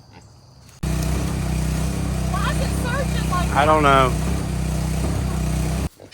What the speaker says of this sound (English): we're going to use this pump and pump the water into it